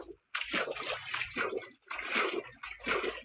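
A video game character splashes into a swimming pool: several bright, watery bursts of splashing and sloshing in quick succession, fairly close and loud, with no talk.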